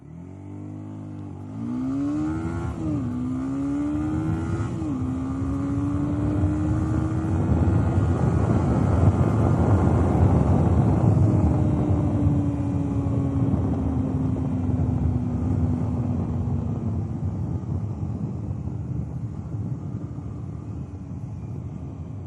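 A beginner motorcycle accelerates hard through several quick gear changes. The engine note climbs in steps, then settles into a long, steady, loud drone that slowly fades.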